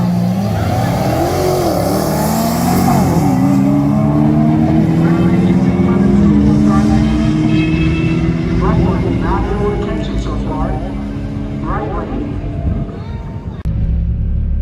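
A twin-turbo Dodge Viper drag races a Hellcat on a strip, with loud sustained engine roar, rising and shifting revs across the run, and a crowd and announcer's voice audible underneath.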